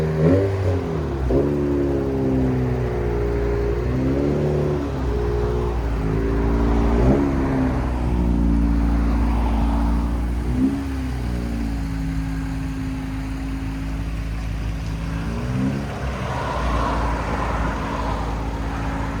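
A 2025 Honda Civic Si fitted with an AWE Tuning 180 cat-back exhaust revs repeatedly up and down, close and loud over a steady exhaust drone, with no talking.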